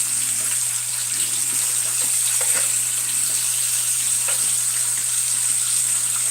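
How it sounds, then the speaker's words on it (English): Bacon frying in a pan at breakfast, a steady soft sizzle running throughout with faint crackles and pops over a constant background hum, no talking. "you are cooking up a lot of bacon"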